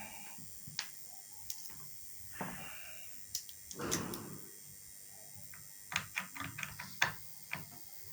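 Small metal screws being loosened on an induction cooker with no power and no signal; sparse ticks and clicks ring out, with a brief scraping burst near the middle and a quick cluster of clicks toward the end, moderately quiet.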